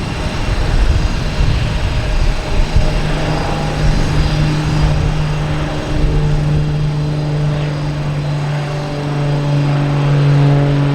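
A Lufthansa airliner comes in to land at Boston Logan Airport, producing a loud, steady jet engine drone with a sustained low hum that holds through the whole stretch.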